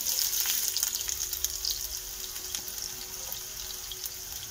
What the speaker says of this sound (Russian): Отправляем туда лук.